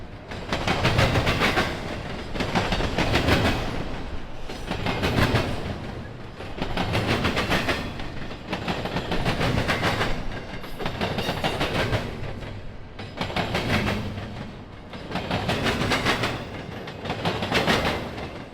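Freight train rolling through Cordele, Georgia, loud and close, with steady rumble and rhythmic clickety-clack of wheels over rail joints repeating in regular surges for the whole stretch.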